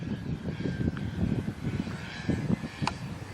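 A new radio-controlled model airplane at a club field, its engine droning steadily overhead through the whole stretch with a rising whine near the end, heard outdoors at moderate distance.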